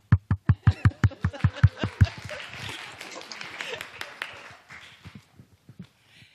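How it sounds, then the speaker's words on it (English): Audience members at a city council meeting applaud a school principal. One pair of hands claps steadily and close, while scattered applause from the room swells behind it and then fades into a few last claps. "I'll clap for you."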